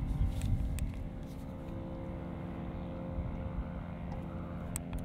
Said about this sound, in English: There's an airplane coming over.